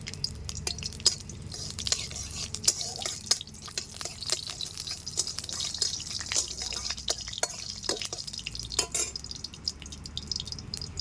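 Whole cumin seeds dropped into hot oil for a Bengali fish curry with boiled Japanese fish, giving a steady quiet sizzle with frequent sharp pops and crackles throughout, with no voices.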